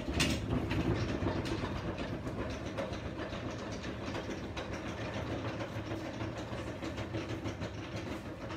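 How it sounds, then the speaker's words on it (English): A hand-cranked four-frame centrifugal honey extractor spins full supers, giving a steady, dense mechanical rattle and clatter that carries on without a break. "You're just centrifuging the supers in order to extract the honey."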